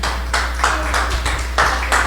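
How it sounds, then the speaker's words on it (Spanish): A church congregation clapping and cheering in short rhythmic bursts, moderately loud, with a steady low hum underneath. "Dale un aplauso al Señor"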